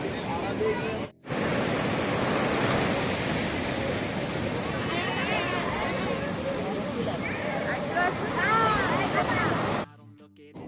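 Sea waves wash steadily onto Digha beach at dawn in a broad, continuous roar, with faint distant voices mixed in and a brief dip near the start before the surf cuts off at the end.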